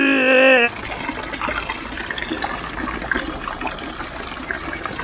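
Water running from the Farbenbauer fountain in Hildburghausen, a steady close trickle and splash that goes on evenly after a brief loud tonal burst at the start.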